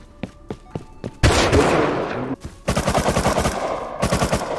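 MP5 gunfire in the video game Rust: a few separate sharp shots, then a dense burst, then long rapid-fire volleys, fairly near and loud.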